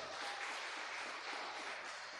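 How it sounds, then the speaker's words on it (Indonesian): Seminar attendees at a college anniversary celebration clap in soft, steady applause that sounds distant and faint, holding an even wash of hand claps from start to finish. "tepuk tangan dulu aja"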